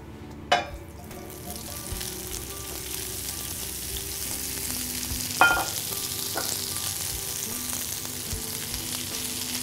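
Cauliflower sizzles and crackles steadily in olive oil in a medium-hot pan, with a couple of sharp clanks of a utensil against the pan.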